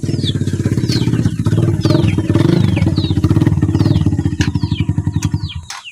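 Motorcycle engine running close and loud with a rapid uneven putter and clatter, settling into slower pulses at the end.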